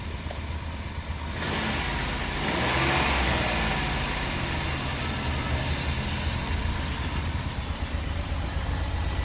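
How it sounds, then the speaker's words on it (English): Jeep Wrangler JK engine stuck in limp mode, revving near the microphone: a steady mid-pitched idle that swells in a brief rev around the second and third seconds, then settles back to a sustained drone with no talking. "Try to rev it up."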